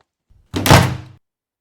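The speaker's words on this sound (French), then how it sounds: "madame, claquant fort la porte, va s'enfermer dans son appartement" A door slams hard shut once, a loud, close, solid thunk with a short decay, alone after a faint brief rustle.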